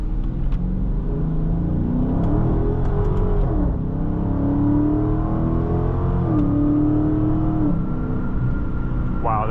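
2023 Dodge Charger R/T Scat Pack Swinger Edition V8 accelerating hard from the cabin, a deep rumbling engine note climbing through gears with audible shifts, loud and continuous.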